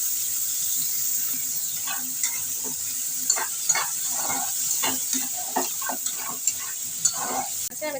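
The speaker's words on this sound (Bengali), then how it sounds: "চিংড়ি মাছটা বন্ধুরা খুব বেশি একটা কড়া করে ভাজবো না হালকা নাড়াচাড়া করে আমি তুলে নেব" Prawns sizzle steadily in hot oil in a pan, with repeated sharp scraping clicks from a spatula stirring them throughout; no talking.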